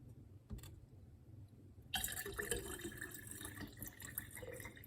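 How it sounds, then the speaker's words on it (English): Tap water pours into the decanter of a Sheffield espresso maker; after a short quiet stretch with a faint knock, a steady splashing stream starts and runs on, close and moderately loud. "fill the machine with water like"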